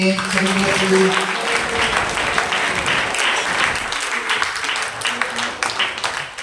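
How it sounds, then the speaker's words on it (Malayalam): Church congregation applauding together during a Malayalam worship service, a dense steady wash of many hands clapping throughout, with a tonal voice or instrument faintly underneath. "കൈയടിക്കുക."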